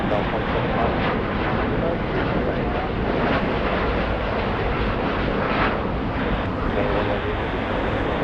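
Airliner engine roar at Los Angeles International Airport, a steady broadband rumble with wind buffeting the microphone, loud and continuous throughout.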